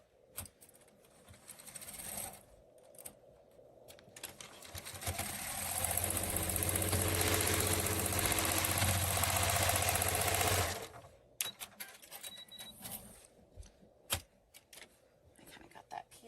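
Sewing machine quilting stitches across a patchwork bow runs steadily for about five seconds in the middle, loud and whirring, framed by quieter handling noises and small clicks before and after.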